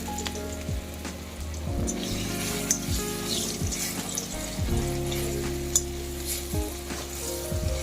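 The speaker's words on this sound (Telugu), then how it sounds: "ఎక్కువ ఏమి ఫ్రై అవ్వనవసరం లేదు, ఊరికే కొంచెం ఆయిల్లో మగ్గితే 1 నిమిషం వేసుకొని" Gongura chutney cooks in a little oil in a pan, a soft steady sizzle under repeated scraping strokes of a spoon stirring through it, close and moderately quiet.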